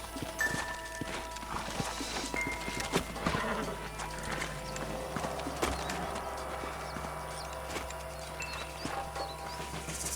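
Horses in the Red Dead Redemption video game clop and whinny close by, hooves beating steadily with occasional neighs over a busy outdoor game soundscape.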